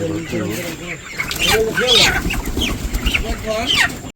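Village chickens cluck close by in a Bangladeshi farmyard coop, with several birds calling over one another in bursts while people talk.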